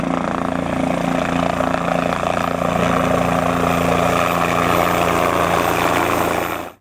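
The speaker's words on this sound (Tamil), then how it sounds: "பெல் 407 ரக மாடல் கொண்ட இரண்டு ஹெலிகாப்டர்களை சுற்றுலாவிற்காக அறிமுகம் செய்துள்ளது" A Bell 407 tourist helicopter flies over Theni, its rotor and engine producing a loud, steady, droning whir that holds constant throughout before cutting off abruptly at the end, with no talking.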